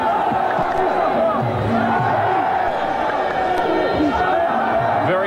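A crowd at a 1997 kickboxing bout in the Palais de Sport, a loud, continuous indoor roar of shouting and cheering mixed with chatter, with commentary talk over it.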